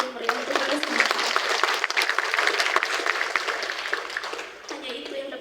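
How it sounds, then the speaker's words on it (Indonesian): A crowd at a university graduation ceremony in Bandung claps in dense, sustained applause that stays loud throughout, easing slightly near the end. "Tepuk tangan sekali lagi meriah untuk kita semua."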